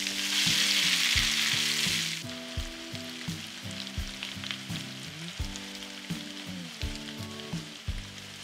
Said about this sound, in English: Now carefully transfer the potatoes into this pan with hot oil.